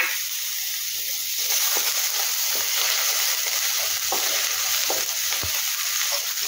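Chopped garlic frying in hot oil for a veg Manchurian dish, a steady bright sizzle running throughout with a few soft clicks of stirring, close and alone.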